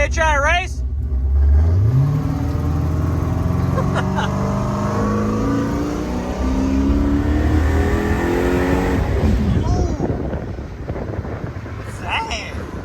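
Cars rev and race at Byron Dragway. A loud engine climbs steadily in pitch and then roars on under wind buffeting, with people talking over it.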